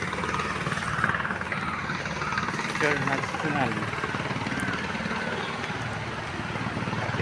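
A helicopter flying overhead produces a continuous rotor and engine drone, moderately distant and steady, while someone talks over it as he walks.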